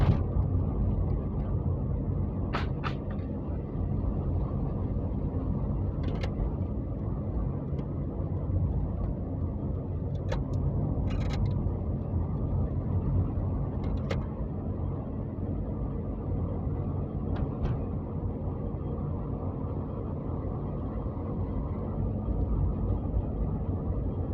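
A car drives along a main road on a driving-exam route, heard from inside as a steady low engine and road rumble with occasional faint clicks, no talk.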